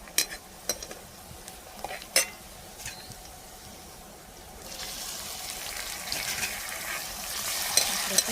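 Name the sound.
frying onion with chopped tomato added and stirred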